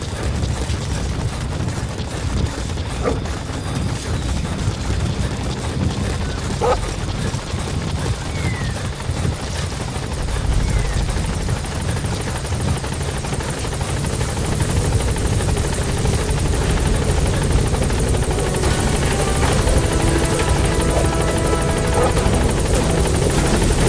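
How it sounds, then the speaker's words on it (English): Support helicopter arriving at a landing zone in Metal Gear Solid V: The Phantom Pain, a loud continuous rotor thump and engine whine that swells as it comes closer, with faint radio voices beneath it. "Support helicopter has arrived."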